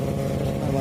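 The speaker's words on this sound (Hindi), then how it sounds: "अभी सुनते हैं अपनी फेवरेट बाइक की साउंड।" Motorcycle engine running steadily at close range, a loud continuous rumble with no break.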